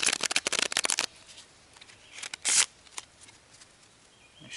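A rapid riffle of playing cards fluttering together outdoors for about a second, followed by a few softer slides and a brief rasping shuffle.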